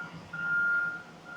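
A handheld OTOFIX D1 Lite scan tool gives a steady electronic beep tone for about half a second, fairly loud over a low background hum, then cuts back in briefly at the end.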